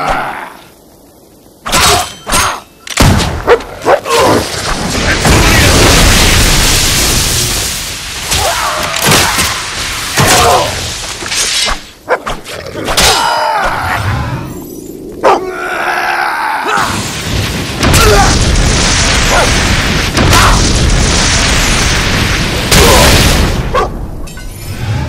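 Booming fire-spell blasts and heavy thuds from combat in the Fable II game on Xbox 360, loud bursts recurring irregularly across a dense, continuous roar with no pauses.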